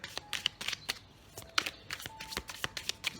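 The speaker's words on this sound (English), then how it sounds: "I will shuffle them a little." Tarot deck being shuffled by hand, a quick run of crisp riffling card bursts with short gaps between them, close and clear, no talking.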